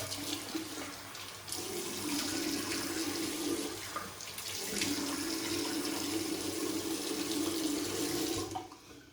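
A bathroom tap runs steadily while a face is wetted for shaving, with a short break in the flow near the middle and a steady close splashing throughout.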